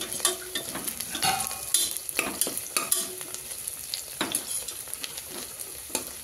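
Onions sizzle in hot oil as a spoon stirs and scrapes the pan while they brown for mutton biryani, a steady frying hiss broken by irregular metallic clinks and scrapes, close and fairly loud, no talk.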